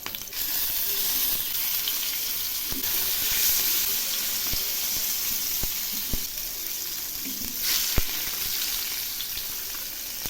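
Silver carp pieces fry in hot oil after being turned over, a steady loud sizzle broken by occasional sharp clicks and spatters of a spatula against the pan, with no voices.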